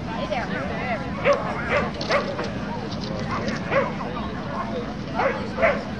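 Dog yips and barks several times at a USDAA Nationals steeplechase semi-final agility competition, short repeated calls over a steady crowd and arena background with people talking nearby.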